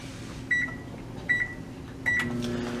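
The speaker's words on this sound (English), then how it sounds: "We set the microwave for 20 seconds and start it up." A microwave oven with aluminum foil inside hums steadily, and three short electronic beeps sound at even intervals over the running drone.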